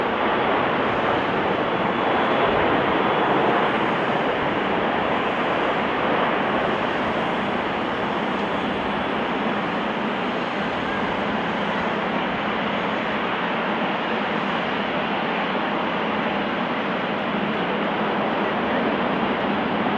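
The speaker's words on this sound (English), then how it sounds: "This Airbus A340 landing too fast due to a flaps issue," An Airbus A340 lands fast without flaps after a flap problem, a loud, steady, broadband roar of engine and rushing air that holds unbroken from start to finish.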